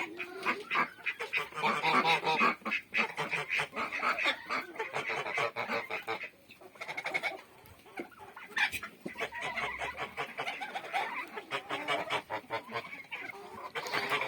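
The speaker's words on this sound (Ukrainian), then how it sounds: "Гусі теж мішанку їдять." Geese and turkeys honk and cackle continuously at close range during morning feeding in a poultry pen, a dense chorus of overlapping calls.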